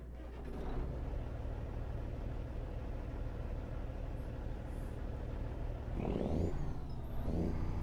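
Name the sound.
Freightliner FLB truck engine revving, American Truck Simulator video game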